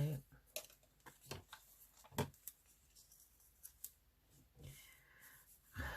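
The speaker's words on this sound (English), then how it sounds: "I think I'm just going to just roughly cut round that, like so." Scissors snip through paper cut-outs for a collage, a series of short crisp cuts spaced irregularly at close range, quiet overall with light handling noise between them.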